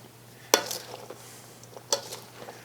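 Seasoning salt, pepper, garlic and onion being stirred into a crock-pot baked potato soup, with two distinct metallic scraping clinks of a spoon against the pot amid quiet rustling, close and alone.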